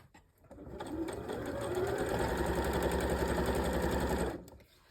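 Sewing machine running a 2 mm straight stitch along a long vertical quilt seam, a steady close whirring hum that lasts about four seconds before stopping, with no talking over it.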